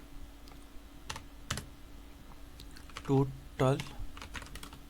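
Fingers tap a computer keyboard while someone writes JavaScript code. Soft, close clicks come in a loose, irregular rhythm, and a voice briefly speaks over them.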